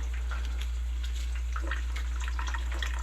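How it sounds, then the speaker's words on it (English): Running water rinsing freshly picked opihi shellfish in a Big Island of Hawaii kitchen, a steady splashing stream with small spattering bursts, close and moderately loud, over a low constant hum. "So what I do is just lightly rinse it off"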